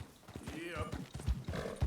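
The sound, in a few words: horse hooves in Red Dead Redemption 2 video game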